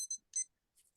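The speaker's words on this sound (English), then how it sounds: "And there goes our timer." A timer goes off with a few short, high electronic beeps in quick bursts, the first pair close together, then one more burst and a fainter trailing beep, with quiet gaps between.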